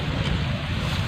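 A strong wind blows hard in a brief, loud burst of steady buffeting roar with deep low-end rumble, like gusts striking the microphone.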